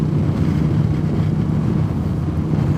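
Honda CX500 Turbo motorcycle riding along, a steady muffled engine and exhaust drone blended with wind rush, continuous and fairly quiet, no speech.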